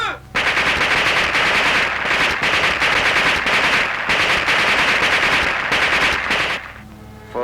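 Rapid machine-gun fire rattles in long, loud bursts in a World War II film execution scene, with brief gaps between volleys and a short pause before the shooting ends.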